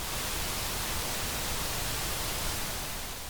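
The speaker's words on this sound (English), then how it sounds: "First up, pink noise." Steady pink noise hisses without a break, a soft, even rush that is broad and constant from start to finish.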